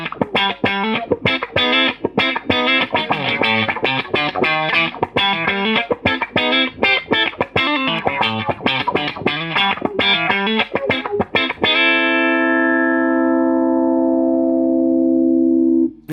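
Electric guitar run through a Q-Tron envelope filter and a compressor, with fast, bright, wah-swept notes played in a dense rhythmic stream, then a final chord left to ring out and fade alone.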